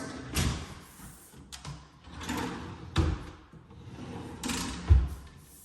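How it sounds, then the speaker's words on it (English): Kitchen cabinet drawers in a walk-through of a new kitchen are opened and closed several times, each with a soft sliding rumble ending in a thud, under quiet room noise. "And then these drawers."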